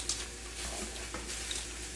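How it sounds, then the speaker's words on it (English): Ingredients being stirred together in a tripled family meal recipe, a soft continuous scraping and stirring texture with faint clinks, steady and close, no talking. "Okay, go ahead and mix that in."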